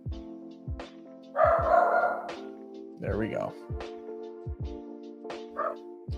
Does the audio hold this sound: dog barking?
yes